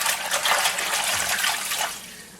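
Spinach being stirred in a sink full of water: swishing, sloshing water close by, steady, then easing off toward the end.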